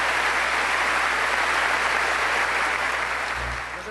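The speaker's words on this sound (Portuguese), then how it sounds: "Uma salva de palmas para os irmãos de Arcabuco." A church congregation claps steadily and loudly for visiting brothers from Arcabuco, the dense applause filling the whole stretch and easing off slightly at the very end.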